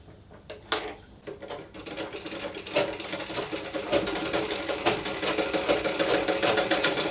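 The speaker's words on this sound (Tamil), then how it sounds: "ஷேப்க்கு அப்படியே நம்ம தைக்கிறோம்" Sewing machine stitching a baby A-line frock for a two-to-three-year-old, a rapid rhythmic mechanical clatter that starts in short bursts and then runs continuously, close and fairly loud with no talking.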